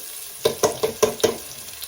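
Onions hitting a hot pot for an African-style stewed okra and tomato dish, giving a short run of five sharp sizzling bursts in quick succession over a faint steady background hiss.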